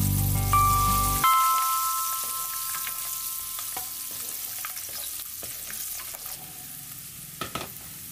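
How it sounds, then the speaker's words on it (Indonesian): Five garlic cloves fry in hot oil until wilted, giving a steady soft sizzle with scattered crackles and stirring clicks, preceded by a brief tone at the start. "Goreng 5 siung bawang putih hingga layu"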